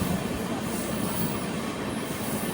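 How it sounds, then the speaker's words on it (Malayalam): A train rolls slowly into Thalassery railway station, a steady broadband rumble of wheels and carriages with faint clatter, continuous and fairly close throughout. "ട്രെയിൻ ഇപ്പോൾ തലശ്ശേരി റെയിൽവേ സ്റ്റേഷനിലേക്ക് എത്തുകയാണ്"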